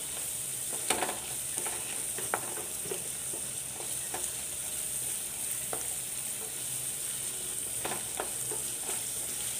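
Onions sauté with salt in a pan, giving a steady close sizzle and frying hiss, broken by scattered scraping stirs of a utensil. No voices are heard.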